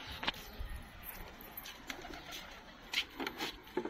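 Soft pigeon coos come in short bursts at close range, with a few faint chirps and light rustling between calls.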